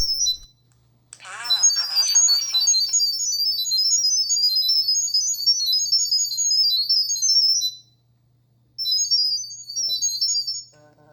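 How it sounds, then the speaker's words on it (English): A doorbell's high-pitched electronic pairing tone chirps and warbles for several seconds, pauses, then resumes briefly; a voice speaks over its start. "the doorbell will play a high-pitched sound"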